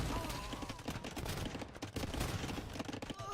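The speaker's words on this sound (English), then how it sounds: "there are onagers here from the Goth and Bombard cannons" Siege fire from onagers and bombard cannons in an Age of Empires tournament battle: a dense, continuous barrage of overlapping booms and crackling impacts that holds loud throughout with no pauses.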